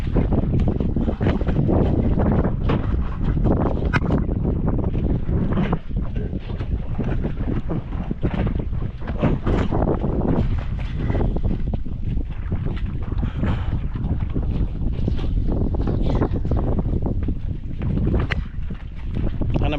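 A loud, noisy boat engine runs steadily and close with a dense rumbling roar, mixed with heavy wind buffeting over the whole stretch and no talk.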